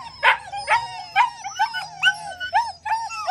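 Several dogs confined behind a fence bark, yip and howl in a steady run of high, whining calls, close and loud with no talking.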